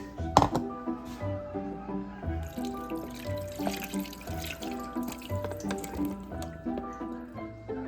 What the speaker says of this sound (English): We're going to add our apricots. We got to drain these.